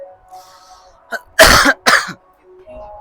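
A person coughs twice, loud and close, in a quiet room with a faint hum behind.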